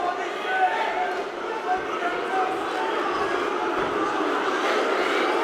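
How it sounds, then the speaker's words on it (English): A fight crowd in a Manchester arena keeps up a steady, dense roar of cheering and shouting, with voices talking over the noise throughout. "The crowd is cheering for Luke."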